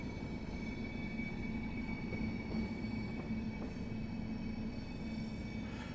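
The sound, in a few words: Class 90 train running in Train Sim World video game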